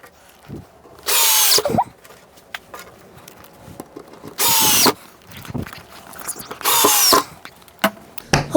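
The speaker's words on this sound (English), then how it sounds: "And we'll put in some screws." A power drill drives screws into the corners of a wooden model railroad baseboard in three loud bursts of whirring, separated by quieter handling clatter.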